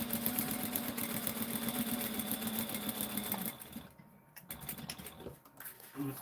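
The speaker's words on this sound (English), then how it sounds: "Well, my bobbin's going again" A sewing machine hums at high speed for several seconds while winding a bobbin, then slows and stops, followed by a few faint mechanical clicks.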